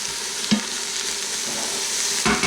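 Minced garlic and one onion sautéing in an Instant Pot, a steady close sizzle with a couple of brief stirring clatters and no talking.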